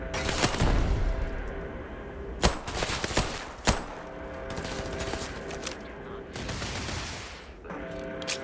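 Gunfire in Starfield cracks through a steady fusillade of distant and nearer shots, with several sharp loud bangs standing out over a continuous rumble.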